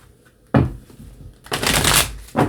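Tarot cards being shuffled by hand: crisp papery riffles and rustles in a few separate bursts, the longest a dense flutter of cards, up close and with no voice over them.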